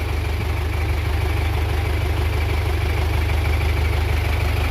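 Close by, a tractor engine runs at idle with a loud, constant low throb, its rapid pulsing beat holding steady throughout without revving.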